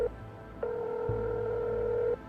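Phone ringtone in the futuristic adventure game Technobabylon: a steady electronic ringing tone plays in long even bursts, close and clear, with a pause between rings.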